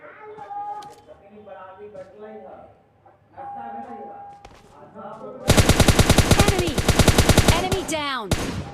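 Rapid automatic gunfire from PUBG Mobile Lite gameplay, a loud dense burst of shots with a few trailing single cracks, after a stretch of in-game sounds and voice beforehand.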